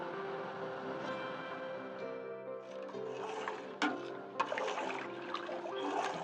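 Green peas tipped into sugared water in a pot over a high gas flame, giving a sloshing, splashing pour with a few sharp splashes midway, set against a steady hum of the burner.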